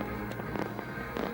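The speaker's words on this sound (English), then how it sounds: "The finale, fireworks lighting up the river" Fireworks over the river in Derry, a finale of rapid crackling bursts and thuds close together, dense and fairly loud.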